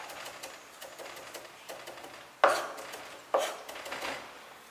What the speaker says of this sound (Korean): 이렇게 하셔서 다져주도록 할게요